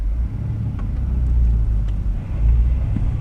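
A manual transmission car pulls away in first gear on a ramp, its low engine rumble steady and close, swelling slightly as the clutch takes up, with no talking.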